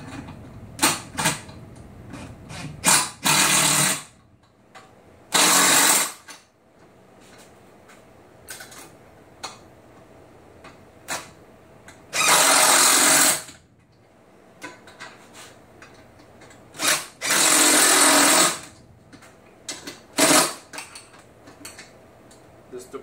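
A DeWalt 20 volt driver tightening bolts on a Grizzly Bear Crawl mobile base sounds in four loud, broadband whirring bursts of one to two seconds each, separated by quieter clicks, creaks and handling noises, with no talking.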